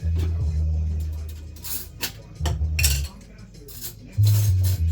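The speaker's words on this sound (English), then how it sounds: "That fork goes in here. It stirs." A fork stirring instant garlic Kumamoto-style tonkotsu ramen in a cup, with repeated close clinks and scrapes against the container over a low background hum from a TV.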